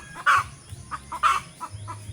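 A chicken clucks in a rural yard, giving a few short, close calls spaced unevenly over about two seconds against quiet background.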